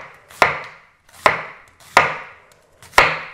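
Four crisp, evenly spaced knife strokes slice thin cuts through an onion on a chopping board, each a sharp close knock with a short ringing tail, and no talk.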